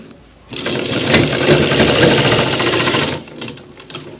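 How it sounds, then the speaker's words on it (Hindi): Sewing machine stitching along the waistband belt of a pair of trousers, a loud steady run of rapid needle chatter lasting about two and a half seconds, starting and stopping sharply, with quiet handling noises after. "इस तरीके से खींच के इसको ऊपर सिलाई लगाना है"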